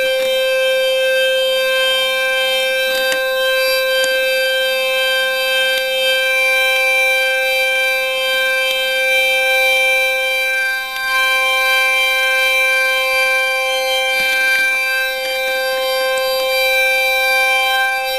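Sustained electronic organ notes come through loudspeakers as steady, droning tones that hold loud and unbroken for the whole stretch, with no voices over them.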